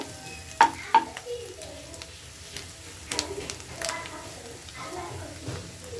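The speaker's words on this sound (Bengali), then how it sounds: "ঢাকনা উঠিয়ে নিলাম, নাড়াচাড়া আমার লাউর ছোকাটা কিন্তু সেদ্ধ হয়ে আসছে।" Bottle gourd peel sizzling and being stirred in a pan with prawns, soft scraping and frying sounds near and low, with a couple of sharp clinks early on.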